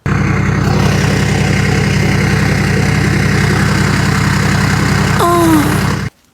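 A deep Toyota 80 Series 1HZ turbo diesel engine idles steadily through a 3-inch straight-through exhaust with a throbbing, rumbling note, a brief voice near the end before it cuts off.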